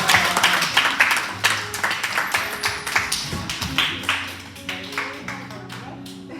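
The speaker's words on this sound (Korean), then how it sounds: "박수!" Church youth congregation members clap during a Sunday service, fairly close, with distinct individual claps mixed with a low musical hum and some talking.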